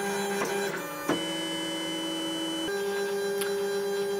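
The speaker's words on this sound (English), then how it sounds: "The Lulzbot Mini does auto nozzle cleaning and auto bed levelling, so it's just going to wipe its nozzle at the back there on the felt pad." A Lulzbot Mini 3D printer starts a print job, its motors whirring in steady tonal hums that step in pitch as the nozzle moves to wipe on a felt pad at the back, heard close with no talk.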